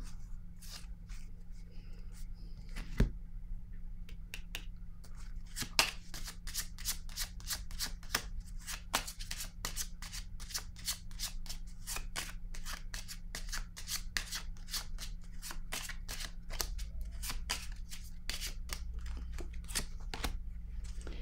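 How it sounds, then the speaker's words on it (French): Tarot cards being handled and laid down, a rapid series of sharp, dry card snaps and flicks, near and crisp, over a steady low background hum, with an occasional louder slap. "Je vais déposer une carte sur le gain"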